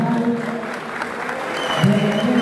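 A crowd applauds a music instructor at the Tepecoyo Band Fest 2022 awards, and the dense clapping is heard under a sustained musical drone and faint voices.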